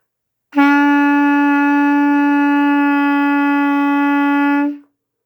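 A single written E held steadily for about four seconds on a 5th grade band instrument fingered with only the thumb and first finger, a clean, bright sustained tone played alone, close and even in loudness before stopping.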